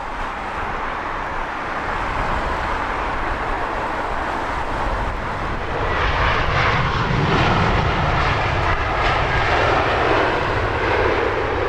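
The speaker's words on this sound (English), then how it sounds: "Nice twin prop ATR 42 from Dundee." A Loganair ATR 42 twin turboprop from Dundee arriving at Heathrow, its engine drone loud and steady throughout and swelling slightly as it passes nearer, with no talk.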